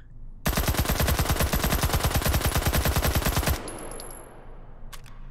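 A UMP submachine gun fires one sustained full-auto burst of about three seconds in the VR game Hot Dogs, Horseshoes & Hand Grenades, loud, close and rapid, followed by faint clinks and handling noises.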